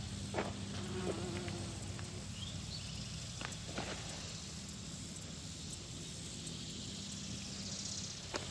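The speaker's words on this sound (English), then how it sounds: "All the bees are in here." Bees work among jalapeño pepper blooms in a garden, a faint, steady buzzing hum that carries on without pause, with a few soft rustles and taps nearby and no voices.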